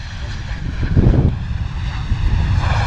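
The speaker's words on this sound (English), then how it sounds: "Keeping the nose up there on what was a fast and hard Ryanair arrival." A Ryanair Boeing 737 arriving fast and hard at London Luton Airport, a loud, continuous low engine roar that swells briefly near the middle, with no voices.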